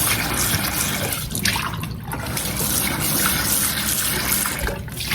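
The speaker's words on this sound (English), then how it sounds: "I'm just going to rinse it out because it's the same product that I'm going to put back in here." Tap water runs and splashes continuously into a plastic yogurt container as it is rinsed, a close, steady rushing with slight shifts in pitch as the container moves.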